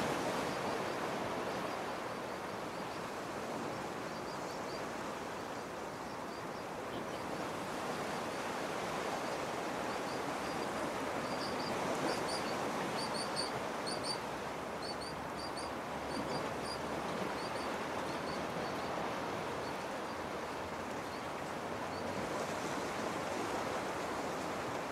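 Ocean waves play at the entrance to a temple and monumental art exhibition, heard as a continuous soft wash of surf that stays even and fairly quiet, with faint high chirps drifting in over the middle stretch.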